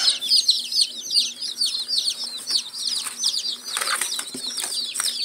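Many baby chicks peep continuously in high, rapid chirps, with soft rustling and shuffling nearby.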